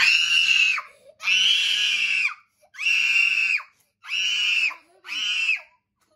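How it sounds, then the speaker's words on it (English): A child screams during an injection in five long, loud, strained bursts, each about a second long, separated by short gasping pauses. "So did it really hurt, or were you just screaming because you thought it hurt?"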